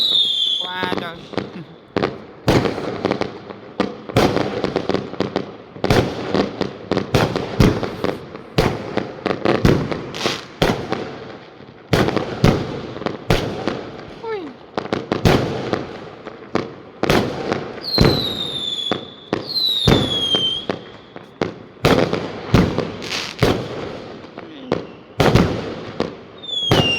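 Fireworks bursting on Chinese New Year's Eve, a dense, loud barrage of sharp bangs and crackles with whistling rockets, some near and some farther off, with people's voices reacting between the blasts.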